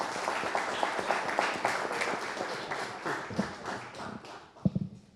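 Applause from an audience at a panel discussion on the economy and the national budget, a dense patter of claps at moderate volume that gradually thins out, ending with a few louder isolated claps.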